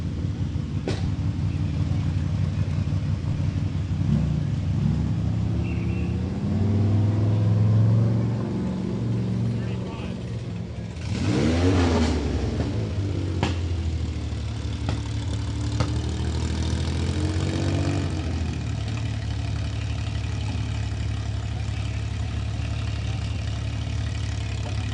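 A 2016 Geyser 6100 rally truck sits at a race start line, its engine idling with a low rumble, then revving in a sharp rising and falling burst midway, while a commentator talks over it.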